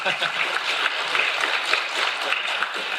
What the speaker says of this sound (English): You didn't get that kind of applause